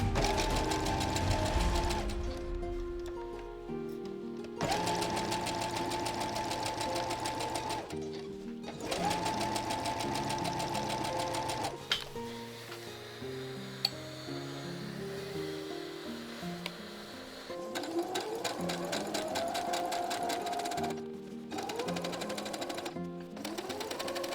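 A sewing machine stitches the side seams of a fantasy cloak in rapid mechanical bursts, stopping and restarting several times, close and clear with no talking.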